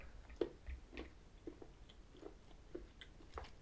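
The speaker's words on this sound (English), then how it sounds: "You're concentrating on chewing the Tutti Frutti and you're missing the chocolate." Chewing on a bar of Fazer milk chocolate with Tutti Frutti pieces, with soft, close, irregular bites and chews repeating over a few seconds, faint against a quiet background.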